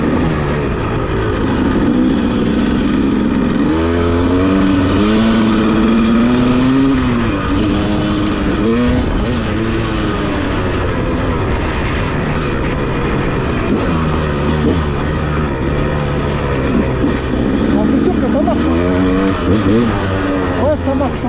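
A KTM 300 two-stroke dirt bike revs in a grassy field, its engine rising and falling in repeated blips close by, with voices talking over parts of it.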